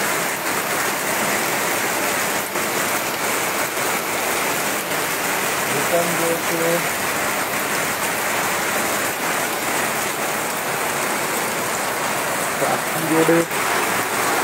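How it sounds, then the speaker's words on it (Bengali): Heavy rain pours down on a waterlogged street in Deganga, a dense, constant hiss of falling water that stays loud throughout while someone talks over it. "মুষলধারে বৃষ্টি হচ্ছে।"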